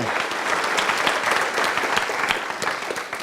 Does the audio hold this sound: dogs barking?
no